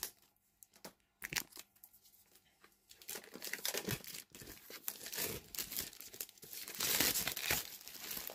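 Plastic packaging of a diamond painting organizer being torn and crinkled open by hand, close and busy, with sharp rips and rustling bursts that grow denser and louder toward the end.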